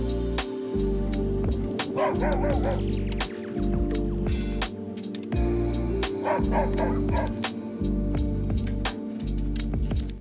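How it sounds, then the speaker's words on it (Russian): Dogs barking at night near a chum tent, repeated sharp barks in bursts over a steady low hum, fairly close and loud, with brief gaps between volleys. "И в ту самую ночь собаки лаяли."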